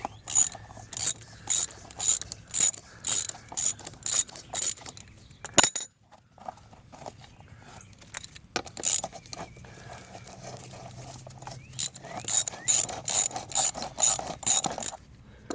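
A ratchet wrench fitted with a 19 mm socket works on a car wheel cover during a Suzuki Forenza engine and transmission job, giving rapid close clicking bursts, a pause with faint handling noises, then more quick ratcheting runs.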